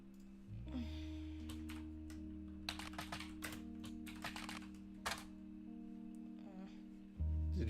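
Keys clatter in rapid bursts on a computer keyboard during a puzzle-game livestream, close and fairly quiet, with a steady tonal hum underneath.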